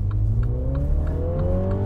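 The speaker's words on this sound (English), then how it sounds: "you have this standard active exhaust that starts up" A MINI John Cooper Works Countryman's active exhaust revs up smoothly and loudly, its pitch climbing steadily as the exhaust drones close by.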